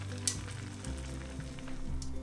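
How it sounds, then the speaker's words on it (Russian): Vermicelli sizzles in a tablespoon of hot vegetable oil in a frying pan as it is constantly stirred, a soft crackling fry with light clinks, under a low background hum. "На сковороде разогреваю столовую ложку растительного масла и добавляю полстакана вермишели. Обжариваю, постоянно помешивая"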